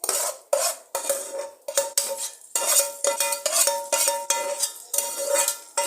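Tomatoes being stir-fried with liver in a little oil on a tawa, heard as repeated metallic scraping and clinking of a spatula against the iron griddle in a steady rhythm, near and distinct, with no voices.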